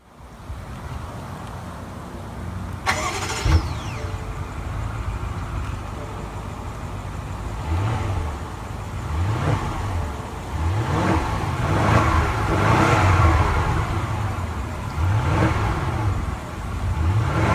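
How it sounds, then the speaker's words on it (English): Car engine of a 2016 BMW 7 Series or Lexus LS 460 starts with a brief sharp burst, then a low hum that swells in repeated revs, partly masked by steady wind noise. "To start the engine, push your foot down the brake and press the start button located behind the steering wheel there."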